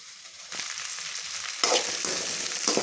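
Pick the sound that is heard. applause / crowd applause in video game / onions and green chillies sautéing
onions and green chillies sautéing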